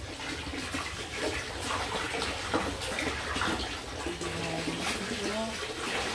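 Vegetables for yeolmu kimchi are rinsed under running tap water, a steady rushing and splashing flow that stays constant throughout, close and fairly loud, with faint voices beneath it.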